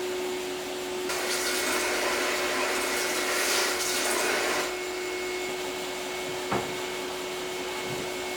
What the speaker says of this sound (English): I'm going to use the belt sander with the curved end to do that